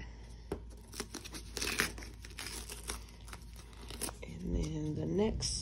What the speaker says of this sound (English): if I have any little pieces like this, I'll usually just go ahead and trim them